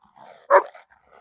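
A single sharp, close dog bark rises out of quieter low whines and soft yips, standing alone with no speech around it.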